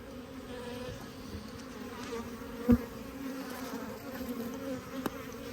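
Honey bees buzzing in an open hive: a steady, close swarm drone with no break and a brief soft knock partway through.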